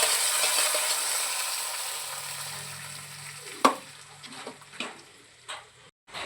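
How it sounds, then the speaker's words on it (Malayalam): Curry leaves drop into browned onions frying in a pan for Kerala varutharacha chicken curry: a loud hissing sizzle slowly fades, then a sharp crackle burst and a few stirring clinks follow, close up and without speech. "നമ്മുടെ ഉള്ളി നന്നായിട്ട് മൂത്ത് വന്നിട്ടുണ്ട് കറിവേപ്പില ചേർത്ത് കൊടുക്കാം"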